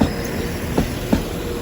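A class 197 train, unit 197049, rolls in to terminate at Crewe on the West Coast Main Line, a steady rumble with two distinct wheel clunks over rail joints, heard at moderate distance without voices.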